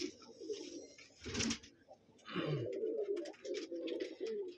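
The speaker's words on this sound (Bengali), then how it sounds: "এই কবুতরটা ডিম দিছে খুবই রাগি কবুতর এটা" An angry pigeon brooding on its eggs in a pigeon loft coos and grumbles in several close bursts, with brief rustling and wing movement between calls.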